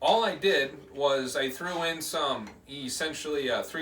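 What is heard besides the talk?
No everyday noises stand out.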